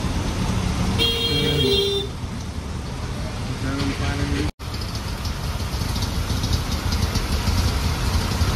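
An auto rickshaw's engine rumbles along in rainy traffic, with a short horn honk early on and a brief cut in the sound midway.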